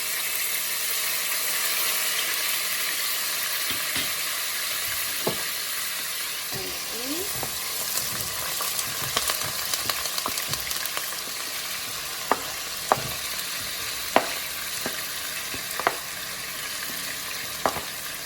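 Garlic sizzles and fries in a pot for kale, a steady close frying hiss broken by scattered clinks and scrapes of a utensil stirring, with no voice over it.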